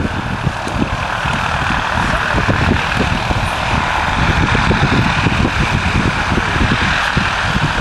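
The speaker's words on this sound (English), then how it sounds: "Delayed the model flying programme while we let a full-size aircraft get airborne." A 1930s Rapide passenger biplane takes off at an air show, its propeller engines giving a steady, loud drone with a broad roar, while a voice speaks over the public address.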